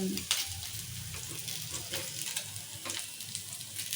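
Paneer pieces frying in oil, a steady busy sizzle with crackles and small spatters throughout, close and fairly loud, with no talk.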